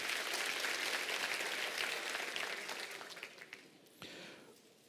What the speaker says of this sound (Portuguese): Aplauda ao Senhor e pode tomar o seu assento